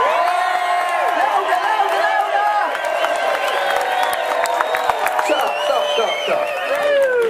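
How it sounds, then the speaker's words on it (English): A large crowd at a village music festival cheers, screams and claps continuously, a dense roar of many high voices with scattered shrieks and whoops throughout. "I want cheering, I want clapping, I want screaming, don't stop."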